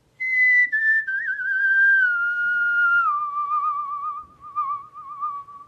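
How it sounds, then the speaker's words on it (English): One person whistles a single clear melodic phrase that glides downward in pitch, close and loud, with no talking and only a quiet background. "and just whistle all your blues away."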